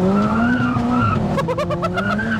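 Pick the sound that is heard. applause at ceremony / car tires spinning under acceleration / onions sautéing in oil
car tires spinning under acceleration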